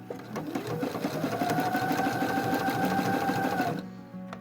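A sewing machine stitches doll-sized leggings in a rapid, even rhythm for several seconds, then stops abruptly; close and fairly loud.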